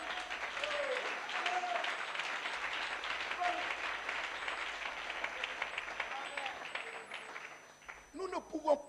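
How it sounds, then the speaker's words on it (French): A church congregation breaks into sustained applause, a dense crowd of clapping hands that fades toward the end, followed by a few scattered claps. "Une main d'acclamation au Seigneur."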